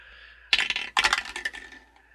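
Dice rolled onto a table during a tabletop role-playing game clatter in two quick bursts of sharp, rattling clicks that tumble and fade, close and fairly loud over a faint background hum.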